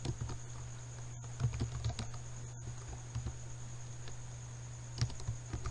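Typing on a computer keyboard, a faint run of irregular light key clicks over a steady electrical hum, with no voices.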